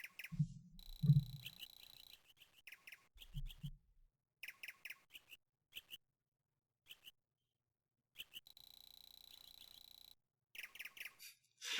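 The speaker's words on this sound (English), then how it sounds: "those are giant seagulls!" Giant seagulls in the Tactics Ogre video game give a string of short, high chirping calls in bursts, separated by silent gaps, with a few low thumps early on.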